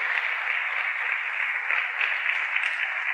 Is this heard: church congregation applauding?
yes